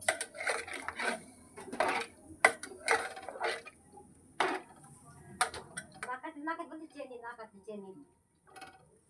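A chicken and egg mixture is stirred in a pan as it cooks into a thick gravy, with a utensil clinking and scraping against the metal in bursts while someone talks.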